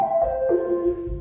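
A pure sine lead synth on a Roland Juno DS plays a short arpeggio, a few clean, smooth notes stepping downward in pitch, clear and alone.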